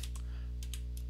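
Quick, faint keyboard typing during an online Torg Eternity tabletop roleplaying session, a few scattered key clicks set over a steady low electrical hum.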